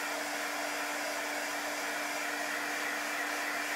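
A hair dryer blows steadily and close up, drying chalk paste in a craft project, a constant whooshing hum with a fixed whine and no talk.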